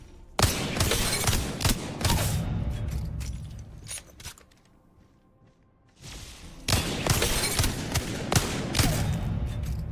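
Rapid automatic gunfire from a weapon in the video game Apex Legends, loud bursts of repeated shots, then a brief lull around the middle before another sustained volley resumes.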